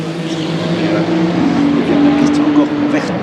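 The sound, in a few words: LMGT3 race cars passing at 24h of Le Mans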